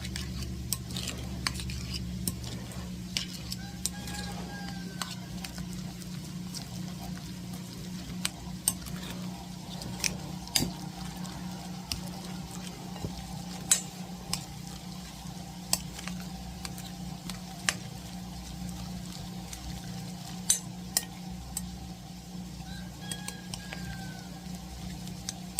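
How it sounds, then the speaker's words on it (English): A spoon stirring and mixing the cheese filling for stuffed shells in a bowl, with steady soft scraping and scattered light taps running on and on over a low background hum. "Mix it up real good."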